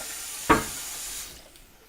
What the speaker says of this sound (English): We're going to drop our cutting board down in the sink and rinse it off.